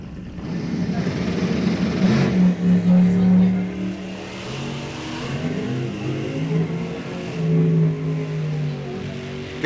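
Drag race cars, a 1972 Chevy Nova with a flame job and a 1964 Chevelle, rev their engines at an NHRA National Open. The engines give a loud, steady, throaty drone with surging pitch, over crowd and track noise.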